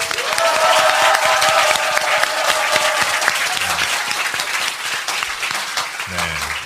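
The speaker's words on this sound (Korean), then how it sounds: "힘찬 박수와 함께 시작하겠습니다." Loud, sustained applause from a large studio audience at a talk show recording fills the room, continuing throughout as voices briefly surface underneath.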